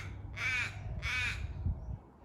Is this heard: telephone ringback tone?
no